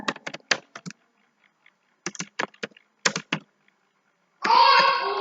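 Close computer keyboard typing in short rapid bursts of key clicks with quiet pauses between, followed by a louder broadband noise burst at the end; no speech.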